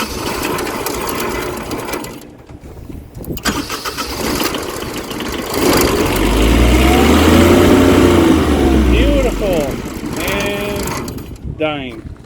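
Kubota lowboy 2 series diesel generator cranking with a whirring starter, then catching and running with a loud low rumble that swells and falters before dying, with a person talking nearby.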